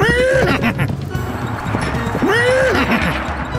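A black horse in a cartoon farm scene whinnies twice with loud, rising neighs while hooves clop steadily underneath, close and prominent.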